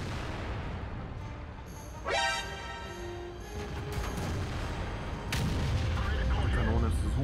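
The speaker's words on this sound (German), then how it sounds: "Die Kanone ist super." Tank cannon shots in World of Tanks, with an E-100 in play, ring out as a couple of sharp booming blasts with ringing tails over a steady engine rumble, while players talk over them.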